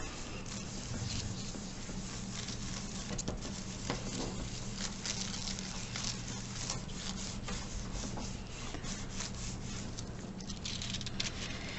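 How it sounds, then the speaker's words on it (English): Paper rubbed by hand over aluminum foil coloured with marker, making a steady, close, continuous scratchy rasp with light patter throughout, no talking. "Going to lay your piece of paper right on top of your foil, and you're going to rub."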